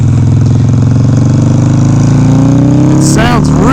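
A Harley-Davidson Sportster motorcycle engine idles close and loud with a steady, throbbing low rumble that rises slightly toward the end, broken by a brief clatter near the close.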